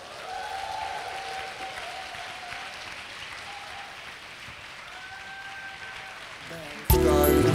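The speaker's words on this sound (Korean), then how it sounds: "제가 모실 때 여러분 열광적인 환호 부탁드립니다." A seminar audience claps and cheers to welcome a speaker, a sustained wash of applause with a few whoops rising above it, before loud music cuts in abruptly near the end.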